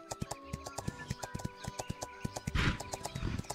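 Horse mount in the online game Astellia trotting with rapid, evenly spaced clip-clop hoofbeats, followed by a brief neigh near the end.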